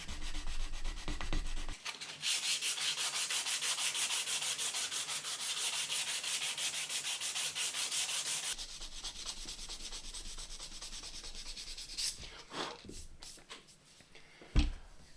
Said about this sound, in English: So next stage is to start kind of sanding up the grits